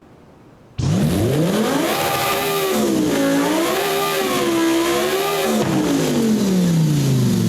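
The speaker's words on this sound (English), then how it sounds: "Okay, so at the engines, this is the stock engine." The stock V12 engine of a Lamborghini Sesto Elemento in Forza Horizon 5 starts abruptly and revs loudly, pitch rising and falling in several smooth sweeps before settling into a steady high drone.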